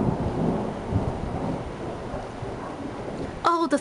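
Thunder during an isolated severe thunderstorm, a long low rumble rolling over steady rain, with a brief car alarm beginning to sound at the end.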